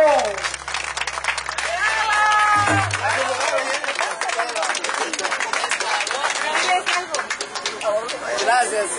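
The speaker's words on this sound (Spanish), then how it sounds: "aplauso." Applause and cheering from a crowd at a birthday party, a dense, steady wash of clapping that runs for several seconds, with lively chatter and voices mixed throughout.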